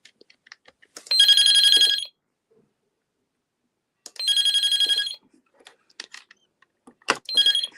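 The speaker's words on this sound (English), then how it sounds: "You can also dial *#88. And it'll ring all extensions at once." Office desk phone extension ringing with an electronic trill, two roughly one-second bursts separated by a pause and a third starting at the end, close and loud with faint handling clicks between.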